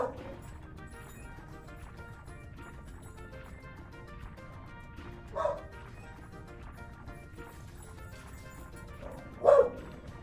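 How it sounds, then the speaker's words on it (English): Dog barking faintly in the background indoors, two short separate barks several seconds apart under a quiet bed of video game music. "Yeah, you can still hear him barking."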